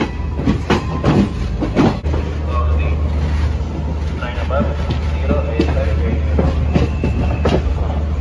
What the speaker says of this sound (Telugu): అటువైపు ట్రాక్ నుంచి వేరే ట్రైన్ ఏదో వెళ్ళిపోతుంది